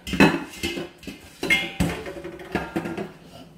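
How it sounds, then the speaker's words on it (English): A mixing bowl is set aside on a counter during pie crust making, with several close clunks and clinks of dishware and utensils in a short uneven sequence. "I'm going to set this bowl out of the way."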